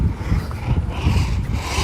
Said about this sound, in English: They're like scraping rocks.